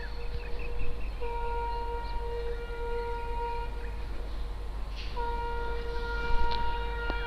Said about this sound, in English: You can hear one more honk.